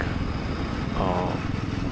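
A 2025 Yezdi Roadster motorcycle runs steadily while riding on village roads or highway, a continuous low engine drone mixed with wind rush, with a brief voice partly heard over it.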